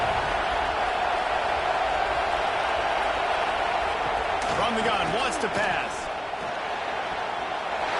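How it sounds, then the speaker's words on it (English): Steady crowd roar in a football stadium during an Illinois at Clemson game, a broad continuous wash under a commentator's voice, with a few brief thumps and shouts near the middle. "this defense feeling energy from the crowd"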